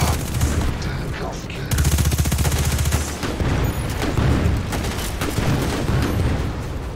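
Rapid bursts of automatic gunfire and repeated shots crackle loudly and almost continuously through a firefight in the Destiny 2 video game.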